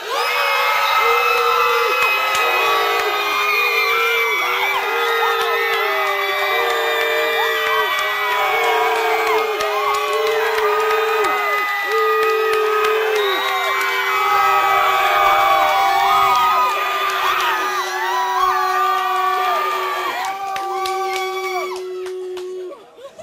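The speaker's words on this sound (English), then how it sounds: "For Southern Stride, let's cheer." Crowd at a school band competition cheering loudly for a band, with sustained whoops, yells and shrieks filling the whole span at close range before tapering off near the end.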